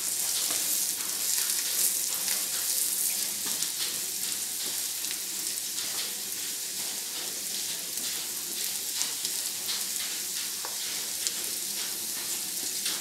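Potatoes frying with chili and turmeric powder give a constant close sizzle and hiss from the pan, with light irregular scraping of a spoon as they are stirred, and no talk.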